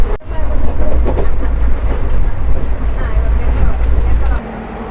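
The Humsafar/Toofan Duronto express 12213, hauled by two WAP-7 electric locomotives, passes close by with a loud, heavy rumble that holds steady, then drops off sharply near the end.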